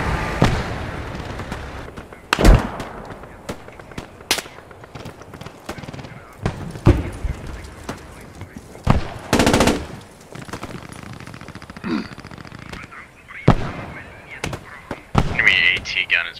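Gunfire in the Post Scriptum battle at Arnhem Bridge: sharp, irregular shots and short automatic bursts, some loud and near, others distant, scattered across a busy battlefield with voices talking over it.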